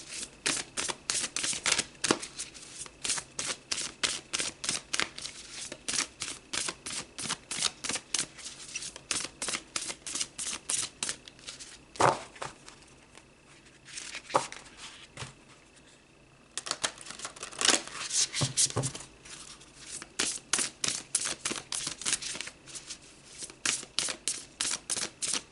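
Rose Oracle cards shuffled by hand in a long run of rapid, crisp riffling flicks, close and steady, broken by brief pauses and resumed bursts, with no talk.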